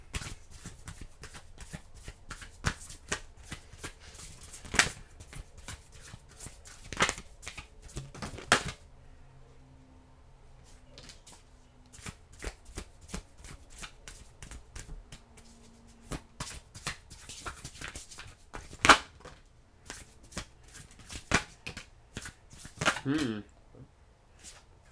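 Tarot cards being shuffled close up in rapid riffling, flicking bursts with brief pauses between, faint low hum in the quieter stretches.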